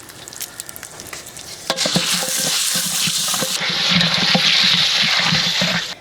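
Butter coconut oil and popcorn kernels heat in a popcorn kettle, a sputtering sizzle that starts abruptly, then swells into a steady, loud hiss close by.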